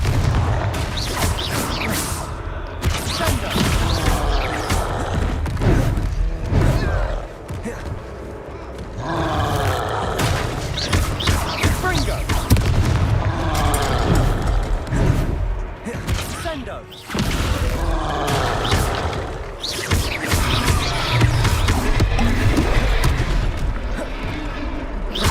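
Confringo fire spell explosions in the video game Hogwarts Legacy, repeated loud booming blasts and roaring bursts throughout a chaotic battle, with voices shouting amid the din.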